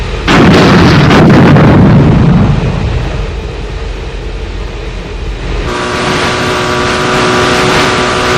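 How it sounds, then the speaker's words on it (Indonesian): A 40 mm naval cannon fires warning shots, heard as loud booming blasts in the first seconds that are followed by a rumbling decay and steady engine drone. The shots run together and cannot be counted separately. "Meriam 40, beri tembakan peringatan 3 kali di depan haluannya."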